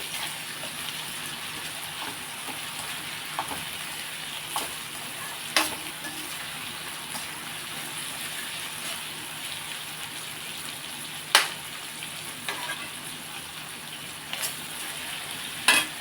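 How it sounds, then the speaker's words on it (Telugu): Tomatoes sizzle in a hot pan while an egg capsicum curry is being cooked, a soft, steady frying hiss broken by a few sharp stirring clinks and scrapes. "ఇప్పుడు టమాటాలు వేసుకుందాం. మనం టమాటాలు కూడా వేసుకుని"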